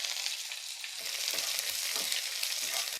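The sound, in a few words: mustard seeds, dried red chilies and curry leaves frying in oil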